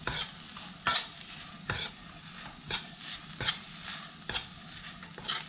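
Gentle, rhythmic stirring of seaweed stems with perilla oil in a pan, about seven strokes of a utensil scraping through sizzling food, close by with no talking.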